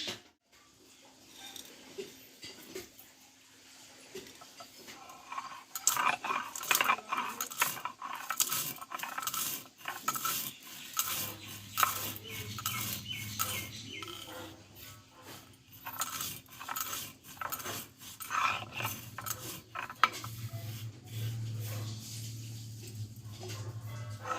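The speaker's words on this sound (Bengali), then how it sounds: "এই ভাজা মশলাটা আমি শিলনোড়ায় গুঁড়ো করে নেব" Roasted spices are crushed on a shil-nora, a flat grinding stone with a stone roller, making repeated gritty scraping and knocking strokes in an irregular rhythm. A low hum joins partway through, and no one speaks.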